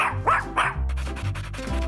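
Pet dog in a children's cartoon barking a few times in quick succession, loud and close, with a short yip at the end.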